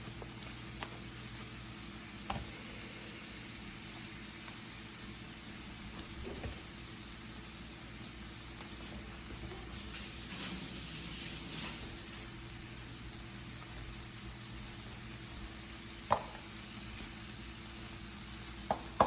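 Onions fry in a pan for a shrimp and mushroom sandwich, making a soft, steady, rain-like sizzle with a few faint clicks and taps along the way.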